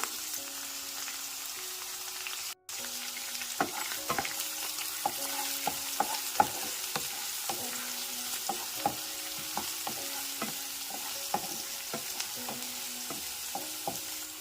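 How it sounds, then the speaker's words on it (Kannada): Onions, curry leaves and dried chillies fry in hot ghee with a loud continuous sizzle, broken by frequent scraping stir strokes and a brief dropout early on. "ತುಪ್ಪ ಇಲ್ಲಿ ಕಾದಿದೆ, ಹಾಗಾಗಿ ಈರುಳ್ಳಿ ಸೇರಿಸ್ಕೊತಾ ಇದ್ದೀನಿ, ಸಣ್ಣದಾಗಿ ಹಾಕಿರೋವಂಥದ್ದು, ಜೊತೆಗೆ ಕರಿಬೇವಿನ ಸೊಪ್ಪು, ಒಣಮೆಣಸಿನ್ಕಾಯಿ"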